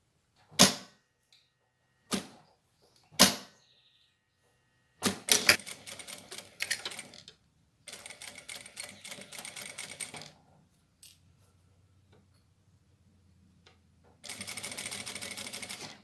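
A sewing machine stitches fabric scraps in several runs: three sharp single clicks first, then bursts of rapid mechanical stitching that stop and start, with a final steady run near the end. Close and clear, with no talk.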